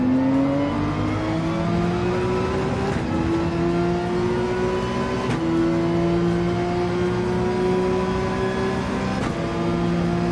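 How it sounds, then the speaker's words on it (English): In a racing video game, a race car engine revs hard and continuously, rising through the gears in long climbing pulls with quick shift breaks, loud and unbroken. "Love revving this thing out"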